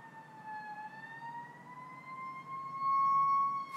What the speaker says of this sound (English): Excuse these loud streets.